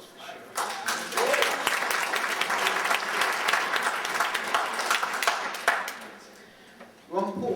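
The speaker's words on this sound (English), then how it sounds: "Ron Paul says that deserves an applause for sure." Audience applause at a talk on federal plans affecting dietary supplements swells quickly into a dense, loud round of clapping, then fades near the end as a voice comes back in.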